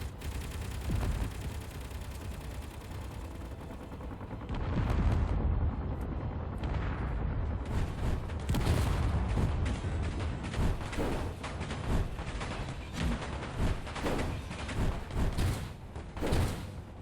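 Turret gunfire and explosions from the space game Space Engineers, a dense, continuous barrage of rapid shots and booming blasts that grows louder after the first few seconds and keeps pounding to the end, with no talk.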